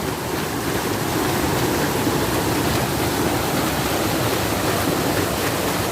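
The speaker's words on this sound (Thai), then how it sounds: "น้ำไหลแรงมากครับตรงนี้" Strongly flowing water rushes steadily at an uncrowded scenic spot, a loud, dense, unbroken roar close by with no pauses.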